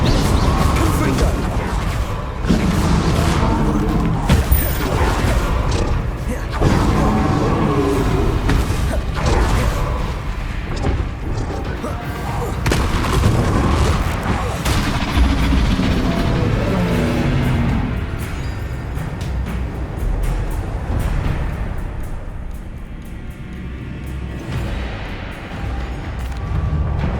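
Repeated fiery spell blasts in Hogwarts Legacy combat, loud booming bursts crowding one another over a dense bed of game noise and music, with a brief quieter lull near the end.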